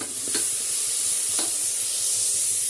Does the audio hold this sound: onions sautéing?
yes